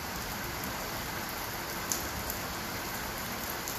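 Steady rain falls continuously on a car, a dense even hiss with no breaks, close and moderately loud.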